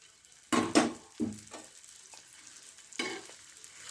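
Food is fried one piece at a time in a pan, with loud bursts of sizzling spatter at the start and again near the end, dying down to a quieter hiss between them.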